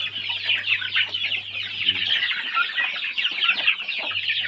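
Hens clucking in a steady, busy chorus on a fighting-cock breeding farm, close by, with soft overlapping calls throughout and no talking.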